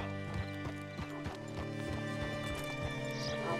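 Horse hooves clip-clop in Red Dead Redemption 2, a steady run of evenly spaced hoof strikes that is close and clear over faint game ambience.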